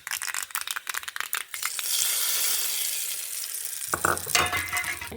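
Mustard seeds and curry leaves crackle in a little oil for a chutney tempering, with an initial rattling burst, then a broad steady sizzle, and a fresh popping flare near the end; no one talks over it.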